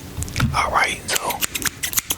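Barber scissors snip in a run of quick, close, crisp clicks that speed up toward the end, with soft whispered speech over the first part.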